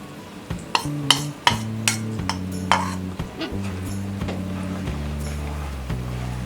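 A spoon scrapes and clinks against a pan as milk powder and powdered sugar are stirred in melted ghee over a low flame, steady rhythmic strokes close by under background music.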